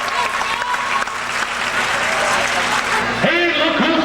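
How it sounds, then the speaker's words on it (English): A circus audience breaks into steady applause and crowd noise while an announcer keeps talking over it through the whole stretch. "How about a nice round of applause for Bumbles the Clown, ladies and gentlemen."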